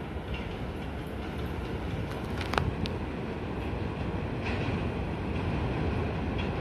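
An R62 subway train at Junius Street station on the elevated IRT Eastern Parkway line, a steady loud rumble of wheels on rail with a brief sharp squeal or clank partway through, no voices.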